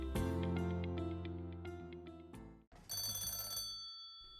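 An old telephone bell rings loud and close, a sustained metallic ringing that pauses briefly and then resumes with a brighter, buzzing ring, with no voices.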